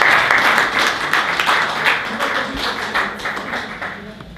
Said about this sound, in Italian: Accogliamo con un applauso.